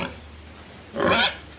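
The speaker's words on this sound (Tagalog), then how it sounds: "Kulungan na baboy." A pig in a piggery pen lets out a single short, loud grunt-squeal nearby, with quiet pen noise before and after.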